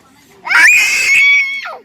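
A child screams loudly and shrilly at close range during play with a bubble machine, one sustained high-pitched cry lasting over a second with no other sound around it.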